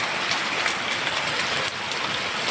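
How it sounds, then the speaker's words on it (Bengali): Steady rain falling outside, a soft even hiss with faint scattered drops, fairly quiet and continuous with no talking. "বৃষ্টি আসছে।"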